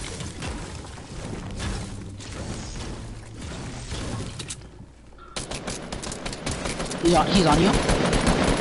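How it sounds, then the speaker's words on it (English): Rapid bursts of automatic gunfire from enemies in a console shooter game, dense and continuous with louder volleys near the end, under brief player chatter. "No, he's shooting me."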